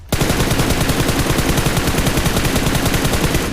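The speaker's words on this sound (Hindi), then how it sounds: "अब उतने में ना नीचे से फायरिंग की साउंड आएगी, अब देखो थर्ड पार्टी।" Rapid automatic gunfire from the mobile battle royale game BGMI rattles loudly and continuously in quick, evenly spaced bursts, filling the whole moment with no voices.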